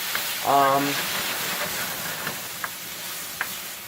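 Diced steak sizzling in a hot pan on an electric stove, a steady close frying hiss with a few sharp pops, and a brief voice sound near the start.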